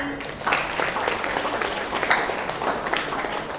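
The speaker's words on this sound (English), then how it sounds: "Please give another applause to Nindi" An audience at a speaking summit applauds a speaker, a sustained round of clapping from a crowd that swells shortly after the start and holds steady, with some voices mixed in.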